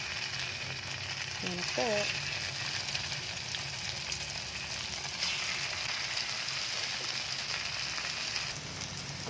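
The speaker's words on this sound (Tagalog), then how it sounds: "Pritong lumpia po, guys" Lumpia fry in hot oil with a loud, steady, close crackling sizzle that runs unbroken throughout, while someone briefly speaks over it.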